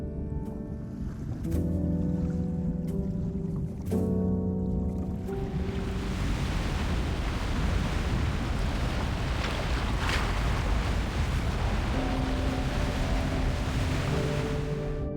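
Ocean waves surge in the video game Love and Deepspace, a broad, steady roar of churning water and wind that swells in after a few seconds of soft music and continues loud and unbroken.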